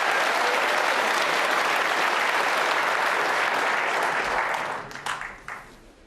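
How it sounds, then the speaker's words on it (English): Rapturous applause from the crowd at the 2021 World Snooker Championship final between Shaun Murphy and Mark Selby, a loud sustained roar of clapping that thins and dies away near the end. "Rapturous round of applause there"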